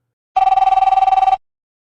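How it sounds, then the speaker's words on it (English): A car phone ringing in a limousine outside a house, a single loud burst of rapid trilling bell pulses lasting about a second, then silence. "the car phone buzzed"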